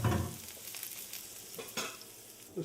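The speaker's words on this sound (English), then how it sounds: "Listen to that sizzle." Steady oil sizzle from a frying pan, a constant bright hiss with a few louder crackles and a soft clink near the end, no voices.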